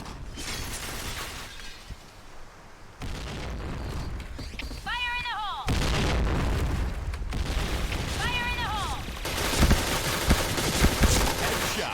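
Gunfire in a shooting video game, with repeated loud bursts and shattering impacts under someone talking, all in a busy, continuous game mix.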